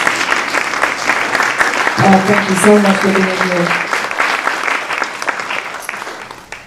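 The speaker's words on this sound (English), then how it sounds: "Please give her a round of applause." An audience at a memorial gives a steady round of applause for a councilperson. The clapping runs continuously while a voice speaks over it, and a brief sung or spoken tone rises midway.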